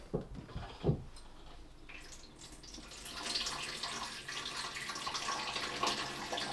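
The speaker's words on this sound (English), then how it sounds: "when I put on this, water should come out of here" Cold water begins running from a newly installed shower in a renovated barn, a faint hiss that swells into a steady spray after a few quiet knocks.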